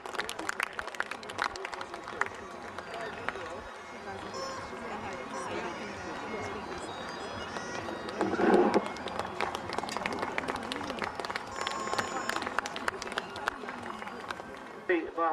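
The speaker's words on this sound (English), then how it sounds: "A big round of applause for a local runner, John Thompson" A crowd at a Highland Games in St Andrews applauding a local runner, scattered clapping and cheering from spectators beneath a steady announcer voice talking over the field.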